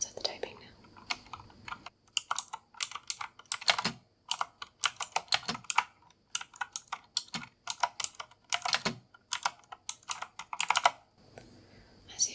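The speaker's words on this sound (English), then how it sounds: "let's enjoy the sounds of the typing now" Rapid bursts of crisp, sharp clicks come from a clicky Razer keyboard being typed on up close, in uneven runs separated by short pauses, with soft voice sounds at the start and end.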